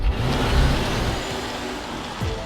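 A 2015 Mercedes-Benz S550 4Matic with its 455-horsepower engine, 7-speed gearbox and all-wheel drive pulls hard in a steady, loud engine roar, swelling slightly near the end.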